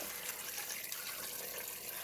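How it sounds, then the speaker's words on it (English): Water rushes steadily into a stock pot over raw chicken pieces for broth, a constant hissing pour with no break and no voices. "you're going to cover the chicken in water."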